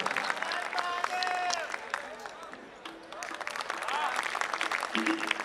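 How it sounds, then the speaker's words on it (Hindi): Applause from a kavi sammelan audience in Ghaziabad, welcoming a poet's recitation: a steady wash of many hands clapping, moderately loud and sustained, with a voice briefly audible over it. "एक बार आगे से पीछे तक जरा जोरदार तालियां बजा दीजिएगा गौरी साहब के कलाम के लिए"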